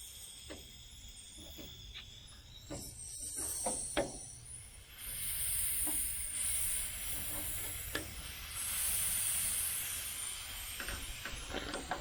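An air conditioning line leaking on a 1968 Chevelle Nomad gives off a faint, thin hiss that swells in the second half, mixed with scattered small clicks and handling noises close by.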